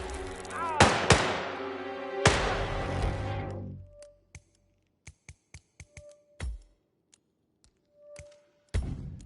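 Gunfire in a video game: a few heavy, ringing shots with long decaying tails, then a run of short, sharp, separate cracks spaced out over several seconds, with brief tones in between.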